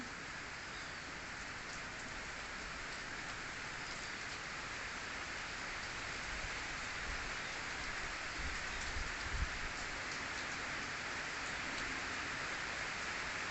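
Heavy rain falls in a dense, steady hiss that continues without a break, with a few low bumps partway through.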